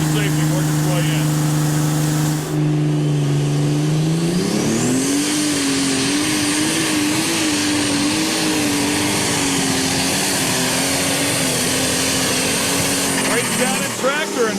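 An alcohol-fueled super stock pulling tractor at a 2008 PPL event in Henry, Illinois roars at full throttle through a long pull, the engine note climbing then holding a loud, sustained scream with a commentator talking beneath.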